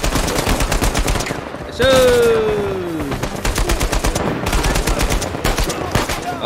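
Rapid gunfire in the video game Uncharted 4: A Thief's End, dense bursts of automatic shots crackling throughout, with a descending whistling tone in the middle and someone speaking briefly.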